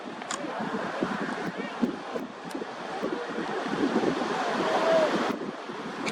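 Ocean waves wash beneath a south-facing fishing pier in North Myrtle Beach, South Carolina, under a steady rush of wind buffeting the microphone, a continuous surf murmur that swells slightly toward the end.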